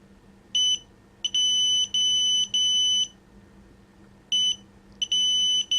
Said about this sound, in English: that thing is going to sit here and beep and beep and beep